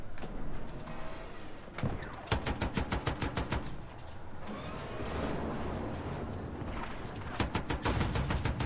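Rapid automatic gunfire in Battlefield 6, with several loud bursts of rattling shots set against a dense battlefield din of engines and distant explosions, near and continuous.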